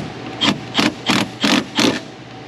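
Five evenly spaced mechanical clicks, loud and close, come from a tool tightening a bolt on a car AC compressor, with a steady faint hum underneath.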